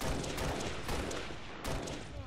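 Rapid gunfire bursts in the video game Halo Reach during online matchmaking, loud overlapping shots and booms crowding the whole moment with no pause.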